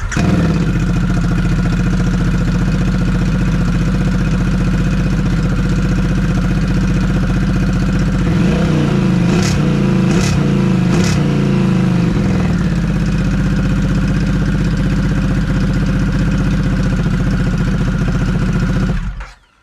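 A motorcycle fitted with a Stealth Moto muffler exhaust idles loudly and close, with a short burst of throttle blips midway before it settles back to a steady idle and cuts off.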